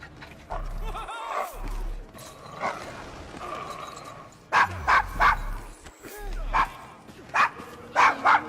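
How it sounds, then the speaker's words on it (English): A dog in the Victorian London streets of Assassin's Creed Syndicate gives a series of short yips and barks, moderately close, mixed with ambient game sounds and some speech. "Is your dog quite all right?"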